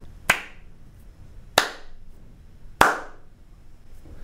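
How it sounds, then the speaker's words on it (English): Three sharp hand claps close to the microphone in a home studio room, evenly spaced about a second and a half apart, each leaving a short bright ring of room reflection. "This is going to be the clap test from right up close."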